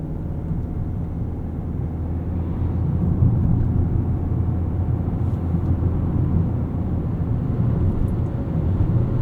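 2023 Toyota Corolla Hybrid XLE driving at a gentle pace from inside the cabin: a steady low road and engine rumble with mild swelling as it accelerates, no talk.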